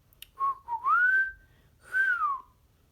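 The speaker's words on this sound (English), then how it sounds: "Each Wednesday, one child got to be special and play a silver penny whistle." A silver penny whistle plays two clear, sliding notes, the first a rising swoop and the second a falling one after a short gap, bright and close with no voices.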